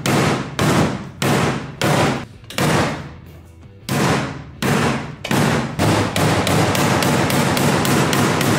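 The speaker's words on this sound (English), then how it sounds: "I just need to give it some special hammering." A truck part takes loud, sharp hammer blows, struck close in uneven bursts with brief pauses, then a rapid steady run of strikes at the end.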